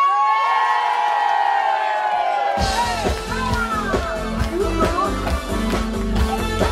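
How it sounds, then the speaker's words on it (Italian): A crowd at a live music show, clapping and cheering loudly in rhythm as the band kicks in, beats and shouts mixed together after a sustained vocal note. "Allora proviamo con l'applauso l'uno un'altra volta"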